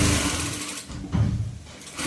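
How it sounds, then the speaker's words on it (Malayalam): Sewing machine stitching kurti fabric: a close, steady mechanical whirr of rapid needle strokes that dips briefly at one point and then runs on again, with no talking. "ഒരേ വിടത്തിൽ തയ്ച്ചു പോവാം."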